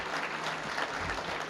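Audience applause at a small business awards dinner honoring award winners, a steady dense wash of clapping from a crowd throughout, fairly close and even in level.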